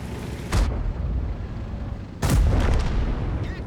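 Two heavy tank cannon shots boom in a tank battle video game, one near the half-second mark and a louder one after two seconds, each followed by a rumbling tail over a steady low battle drone.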